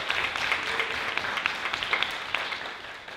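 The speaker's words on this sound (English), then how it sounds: "So we have a round of applause for Andrea." A fairly distant audience applauds at a UK healthcare coalition launch, the clapping thin and steady with a few sharper individual claps standing out, and no voices over it.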